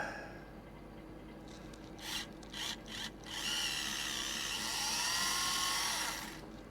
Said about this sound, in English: let's drill that one out.